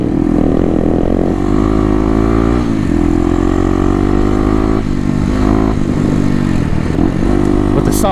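A stock Kawasaki KLX dirt bike on Tusk off-road tires, fitted with an FMF exhaust, revs hard and close, its crisp buzzing drone rising and falling through several throttle blips and ending in a sharp rev.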